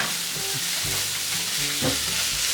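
Fish frying in hot oil gives a loud, steady sizzle and crackle, close up and continuous, with faint background tones underneath.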